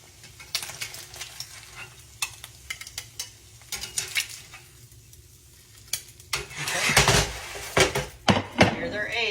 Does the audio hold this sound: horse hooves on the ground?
no